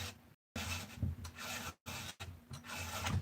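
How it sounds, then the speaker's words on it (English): Hand saw being sharpened with a file, quick repeated rasping strokes in a steady rhythm with brief pauses between passes, close and clear with no talking. "I was just sitting around sharpening saws"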